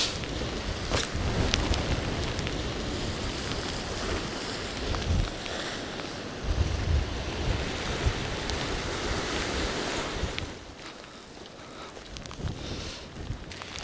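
Strong wind gusts and breaking surf at a seaside rockfish plug-fishing spot roar as a loud, steady broadband rush that swells and eases in waves, easing off near the end, with no talking.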